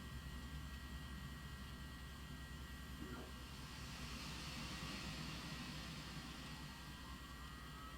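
An airliner's jet engine spools up for a flight from Charlotte to Columbia, a steady broadband roar filling the cabin as a faint whine slowly rises in pitch toward the end; no one speaks.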